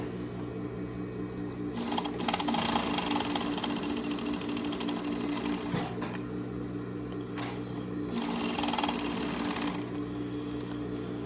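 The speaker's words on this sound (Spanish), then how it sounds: "voy a pasarle la over en los otros dos lados que me faltan, agarrando las dos capas de tela" Overlock machine serging two layers of denim on the sides of a pair of jeans, a steady fast mechanical whir with louder stitching bursts over a constant low hum, no talk.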